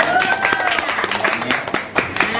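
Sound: audience applause

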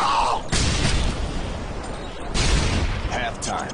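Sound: stun grenade exploding in the video game Modern Warfare 2

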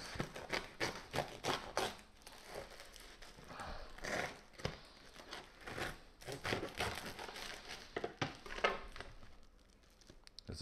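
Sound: knife cutting crusty homemade bread loaf

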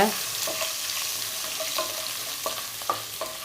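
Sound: chopped garlic sautéing in oil with fennel seeds

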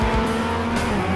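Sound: voice imitating car noises over Trackmania video game

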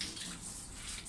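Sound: washing hands under running tap water

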